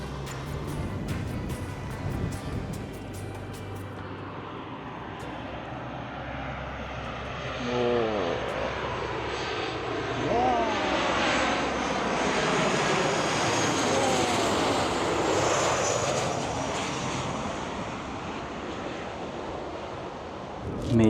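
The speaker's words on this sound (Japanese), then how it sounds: "もしかしたらあれ降りてくるかな" A jet airplane roars overhead as it comes in to land on Miyako Island, Japan, its engine swelling loud and close with a rising and falling whine, over a background of surf and wind.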